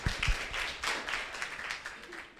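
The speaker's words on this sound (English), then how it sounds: "another round of applause for you guys" A small round of applause for children panelists at a UN75 dialogue on the impact of COVID-19 on children, with a few sharp claps at the start and then thinner, scattered clapping for a couple of seconds.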